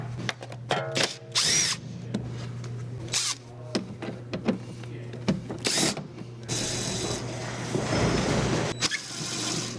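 A power driver with a 10mm socket spins out wheel liner fasteners on a BMW E90 328i, giving short bursts of whirring and ratcheting between pauses, close by and fairly loud, with a steady low hum underneath.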